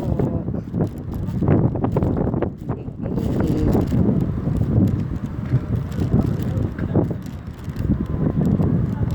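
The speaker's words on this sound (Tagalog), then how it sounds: "Sarap ng hangin." Steady wind rushes and flutters against the microphone outdoors in a park at Arad Seef Mall, rising and falling in low gusts for several seconds.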